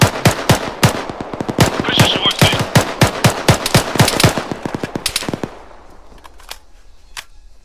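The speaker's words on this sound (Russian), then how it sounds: "А, кстати, прошивает с пулемета." Sustained machine gun fire in Arma 3, loud rapid bursts of shots in a steady rhythm for several seconds, then fading to a few distant scattered shots.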